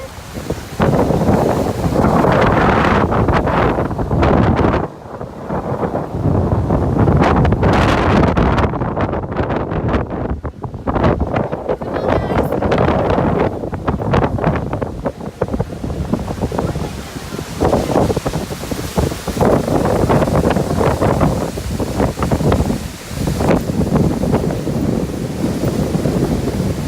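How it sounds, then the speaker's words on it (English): Strong gusting wind roars and buffets the microphone near Niagara Falls, a loud continuous rush with brief lulls and no voices. "Super windy out here."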